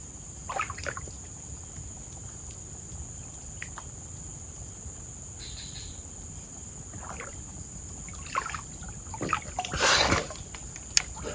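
Water splashing while someone bathes in a river after working in the garden, with a few soft dribbles and one louder splash near the end over a steady high insect drone.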